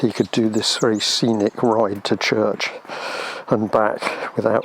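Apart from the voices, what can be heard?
None of the usual background noises is heard.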